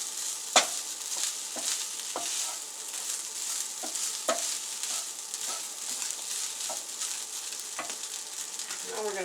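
Shrimp fried rice is stirred in a hot pan, a soft continuous sizzle punctuated by a regular series of sharp utensil scrapes and clicks against the pan, close and fairly quiet.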